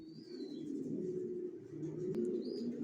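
Young racing pigeons of the Johnson line coo softly and steadily in a low continuous murmur, with a few faint chirps rising above the cooing.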